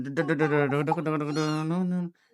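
A kitten gives a long, drawn-out meow lasting about two seconds, close and fairly loud, with a harmonic wavering tone before it stops abruptly.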